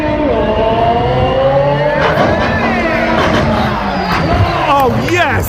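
A crowd at a raceway ramp rollover competition cheers and shouts over a car's engine as it comes down the ramp, with a siren-like wail and rising tones adding to the steady, loud din.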